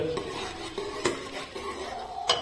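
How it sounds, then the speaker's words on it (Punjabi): Spice masala being stirred and roasted in hot oil in a pan, heard as close, intermittent scrapes and clinks of a utensil against metal. A faint sizzle sits underneath, with no voices. "ਫਿਰ ਲਓ ਜੀ ਮਸਾਲਾ ਪਾਤਾ ਤੇ ਹੁਣ ਇਹਨੂੰ ਆਪਾਂ ਭੁੰਨਾਂਗੇ ਚੰਗੀ ਤਰ੍ਹਾਂ"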